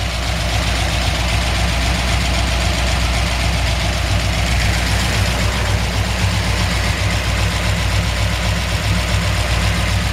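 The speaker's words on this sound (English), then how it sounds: "you can hear the clickety-clack of those solid lifters" A 1954 Ford F-100 engine idling steadily with solid lifters ticking, a constant close low rumble with a fast even clatter over it.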